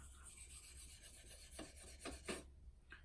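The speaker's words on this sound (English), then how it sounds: "So now that I know I have a burr on that side, I'm going to sharpen this side." A folding EDC knife blade stroked across a sharpening stone, giving several quiet, close raspy scrapes in an uneven rhythm that stop briefly near the end.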